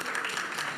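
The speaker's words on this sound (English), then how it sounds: "we can give them a big round of applause just to warm them up" Steady, dense applause from a conference audience, a continuous wash of clapping at moderate volume with no pauses.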